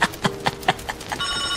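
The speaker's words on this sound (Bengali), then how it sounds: "শুধু একটা ফোন বাজছে তো" An old-style telephone bell rings as a sound effect in a radio drama, with a few quick bursts of rattling rings and then a clear, sustained ringing tone near the end.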